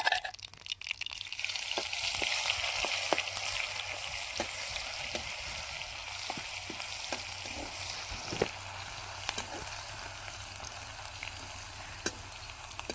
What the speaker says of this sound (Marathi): लसणाला छान गोल्डन ब्राऊन होईपर्यंत तळायचं आहे